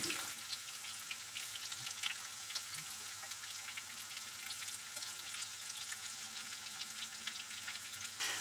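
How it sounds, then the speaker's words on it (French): Corn flake coated chicken nuggets frying in a preheated pan, giving a steady, dense sizzle and crackle of hot fat that holds even throughout, close and fairly soft, with no voices. "On va les laisser cuire comme ça entre 5 et 10 minutes, en fonction évidemment de la taille de vos nuggets."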